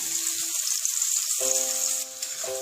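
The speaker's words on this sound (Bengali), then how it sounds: "পেঁয়াজটা ভালো করে ভেজে নেব।" Chopped onion fries in hot oil with cardamom, cloves and peppercorns, giving a steady, bright sizzling hiss throughout. Soft melodic tones play faintly underneath.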